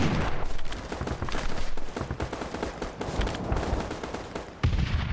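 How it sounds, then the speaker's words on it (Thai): An M60 machine gun firing in a video game, with sustained loud rapid bursts close up that fill the whole stretch, briefly dipping before a final heavy burst. "ปืนค่อนข้างที่จะกระตุกพอสมควรเลยนะครับ M60"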